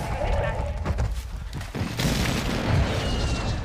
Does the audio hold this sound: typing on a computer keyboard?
no